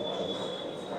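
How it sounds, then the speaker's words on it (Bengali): Kulik Express passenger train pulling away, a steady close rumble of rolling wagons with a constant high metallic whine running through it. "ট্রেন ছেড়ে দিয়েছে।"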